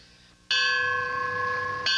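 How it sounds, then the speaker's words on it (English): A single somber memorial bell strikes once for a firefighter lost on the job, its bright ringing tone swelling loud and clear, then sustaining steadily as it slowly fades. "A somber bell rings. It sounds out the long tradition that rings each time a firefighter is lost on the job."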